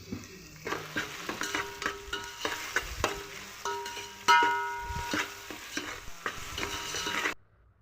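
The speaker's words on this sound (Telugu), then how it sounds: "ఈ పక్క కూడా పలావ్లో కూడా బాగా వేగిపోతున్నాయండి ఉల్లిపాయలు కూడా" Onions fry in a pan for coconut pulao and are stirred, giving a close, clattery scraping with bursts of sizzle that repeat irregularly before stopping.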